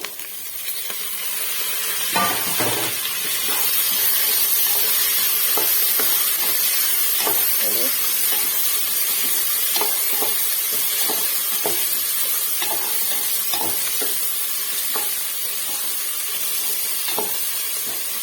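Onion, tomato and coriander frying in a pan for wheat-semolina upittu, a loud continuous sizzle and hiss with scattered stirring scrapes and crackles throughout.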